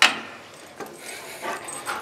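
Hunting dogs on a squirrel hunt pant and give a few short yips and barks, spaced irregularly and fairly close, with no voices.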